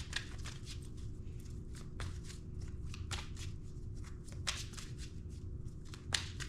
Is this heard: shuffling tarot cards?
yes